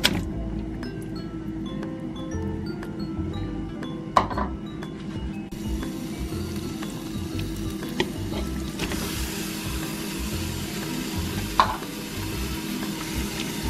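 Pork and other meats frying in oil in a pot for arroz atollado give a steady low sizzle throughout, with occasional clinks of a utensil against the pot.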